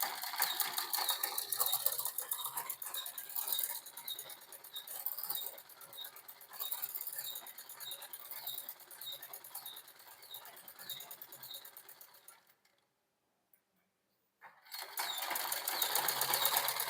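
A sewing machine stitches a shirt collar in quick, light rapid ticks and whirring for about twelve seconds, falls silent briefly, then resumes; fairly faint and close.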